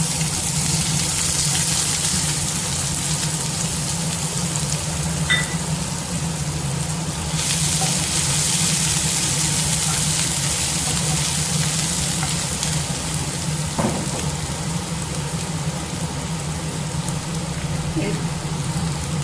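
Mustard seeds and chopped onion frying in hot oil in a pan while making a raw banana fry, giving a continuous loud sizzle with faint crackles, heard up close with a voice at times over it.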